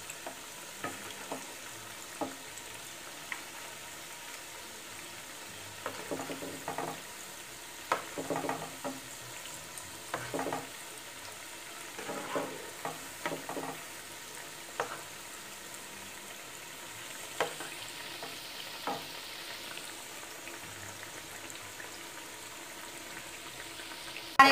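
Cabbage koftas fry in oil in a pan over a gas flame with a low, steady sizzle, broken by occasional soft clinks and stirring taps.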